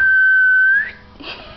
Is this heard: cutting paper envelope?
no